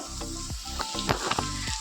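Bitter gourd frying with potato and onion in a pan, a close steady sizzle and crackle with intermittent clinks and scrapes of stirring.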